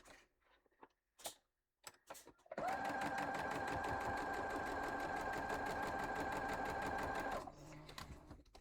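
Sewing machine stitching a pumpkin quilt block, running in one steady burst of about five seconds after a few scattered clicks and handling noises, then winding down into quiet rustling.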